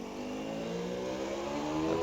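A racing motorcycle at the 1998 Senior TT on the Isle of Man, which revs to about 10,250 rpm, gives a deep, continuous engine drone that rises slightly as it passes, steady and moderately loud with no talk.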